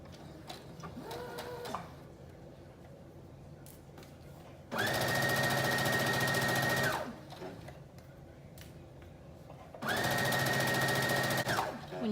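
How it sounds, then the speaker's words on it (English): A sewing machine runs a 3/8 inch seam along a wrap dress in two loud, steady bursts of whirring stitching, each a couple of seconds long, separated by quieter pauses with faint handling clicks. "I'm sewing in a 3/8 inch or 1 centimeter seam allowance"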